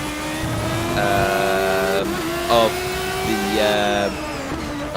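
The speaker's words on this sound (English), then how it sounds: "the BMW M18 hybrid engine. Sounds very, very nice." On-board sound of a BMW M18 hybrid race car engine at Donington Park, a loud sustained harmonic roar that rises and falls through gear changes, with a commentator talking over it.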